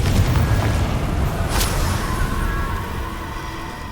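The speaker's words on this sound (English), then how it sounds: "Confringo." A Confringo fire spell explodes in Hogwarts Legacy: one loud, dense boom with a sharp crackling burst partway through, then a rumbling tail that slowly fades.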